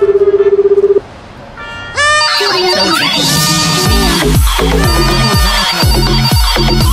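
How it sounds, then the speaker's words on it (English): An electronic phone ring in an animated cartoon warbles briefly, then gives way to a loud, jumbled mix of tones and clattering noise. "I think the phone's ringing, Pete."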